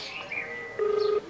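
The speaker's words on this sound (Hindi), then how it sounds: "घंटी जाता है" A short electronic phone tone sounds, a thin steady beep followed by a brief warbling ring, fairly faint and alone.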